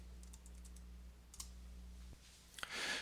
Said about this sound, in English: I'll just start typing the first name in the first cell of the left column.